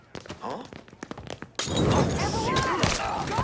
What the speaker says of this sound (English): What the hell's throwing Molotovs?